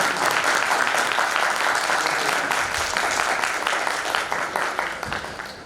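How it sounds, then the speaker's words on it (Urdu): A large audience bursts into loud, sustained applause welcoming a speaker, a dense wall of clapping hands that holds steady for several seconds before thinning slightly toward the end. "میں بلانا چاہوں گی اور یا مقبول جان صاحب کو زوردار تالیاں سے گونجیں گے۔"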